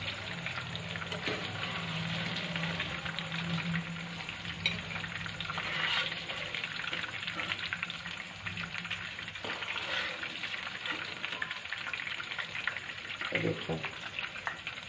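Koftas fry in hot oil with a continuous, even sizzle close by, broken now and then by soft clatter from the pan and a brief knock near the end.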